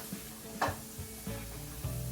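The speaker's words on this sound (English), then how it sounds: "let me go ahead and stir all of this up now" Onions and carrots sizzle steadily in a frying pan, with a few louder bursts of stirring and scraping roughly every half second to second as the vegetables are turned over.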